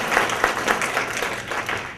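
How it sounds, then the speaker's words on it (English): An audience at an education seminar gives a short round of applause, a dense wash of overlapping claps that holds steady for about two seconds with no voices on top. "Round of applause."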